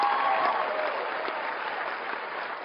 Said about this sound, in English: I want to hear loud applause